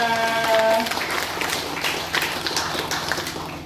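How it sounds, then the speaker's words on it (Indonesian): A pub audience at a community gathering claps for a woman named Ibu Andia, a short, lively round of applause after a musical tone fades, with scattered louder claps. "Tepuk tangan buat Ibu Andia."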